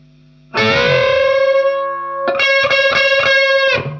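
A distorted electric guitar note on a Les Paul Junior rings out and is bent upward, then a second bent note wavers repeatedly in pitch before fading, loud and close.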